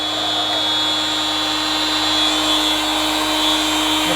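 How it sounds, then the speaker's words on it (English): A grinder powered by a Jackery 3000 Pro solar generator keeps spinning with a steady, high, drill-like whine over a low electrical hum, heard alone without talk. "That grinder's still spinning."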